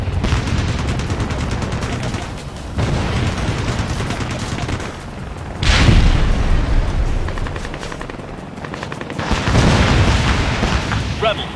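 Missile explosions during an air battle among buildings in the video game Ace Combat Assault Horizon, loud booming blasts over a constant roar of engines and gunfire, with voices talking over the din.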